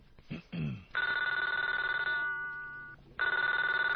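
A telephone rings loudly in two long electronic trilling bursts separated by a brief gap, preceded by a short sound that may be a voice.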